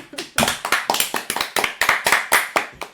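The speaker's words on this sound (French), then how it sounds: "on applaudit l'équipe Ketchup" A small studio audience of only a few people claps for team Ketchup at a quiz show, giving a brisk run of sharp, close hand claps in an uneven rhythm that lasts the whole moment.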